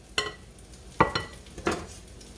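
Potato patties fry in a skillet with a low, steady sizzle, broken by three sharp spatula scrapes and clicks as the patties are shifted across the pan.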